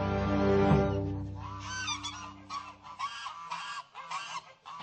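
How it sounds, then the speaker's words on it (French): Geese honk in an eighteenth-century fortress farmyard, a loud close call first, then a run of repeated nasal honks in a quick, uneven rhythm. "Et il y avait des oies dans les forteresses?"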